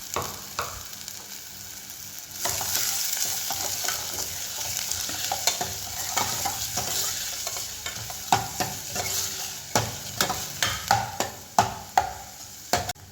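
Chopped garlic, green chilli and onion sautéing in a pan: a steady hiss of frying with repeated sharp scrapes and knocks of a spoon stirring, louder toward the end, close and with no voices.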